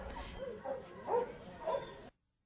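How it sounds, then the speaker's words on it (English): A dog at a Colombian army base, trained to sniff out explosives, gives a few soft yips and whimpering barks over steady background noise, then the sound cuts off abruptly. "Dogs at this army base in Colombia are being trained to sniff out explosives."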